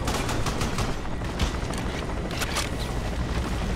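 Sustained automatic gunfire from the shooter Crysis, a dense fusillade of rapid shots rolling continuously and loudly over a rumbling battlefield background without pause.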